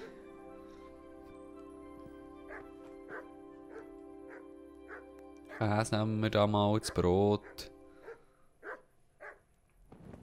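Dog in Kingdom Come: Deliverance barking and yipping in a rapid excited cluster midway, with softer isolated yaps after, over a sustained tonal music bed and someone talking.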